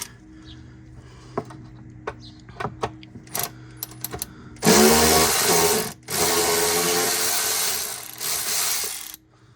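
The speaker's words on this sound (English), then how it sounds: "So I'm just going to use a ratchet." A ratchet loosens arch liner nuts on a Mercedes, first a few scattered clicks and taps, then loud sustained rapid ratcheting bursts up close, broken by one brief pause, with no talking.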